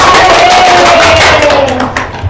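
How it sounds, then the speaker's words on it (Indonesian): Schoolchildren clap for classmates in a primary classroom, a loud burst of hand claps that thins and fades toward the end, with a faint voice in the background. "beri tepuk tangan ke mereka"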